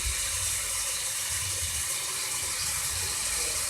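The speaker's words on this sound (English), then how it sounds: "I'm using the hot water first to rinse it off completely." Hot water runs from a tap to rinse off a disc, a steady close gushing splash that stays even throughout with no voices.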